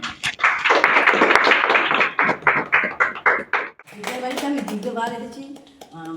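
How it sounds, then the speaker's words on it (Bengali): An audience at a yoga and music day celebration claps in congratulation, a loud rapid patter lasting a few seconds that fades into speech and singing. "আপনার একটু করতালি দিয়ে অভিনন্দন জানাবেন"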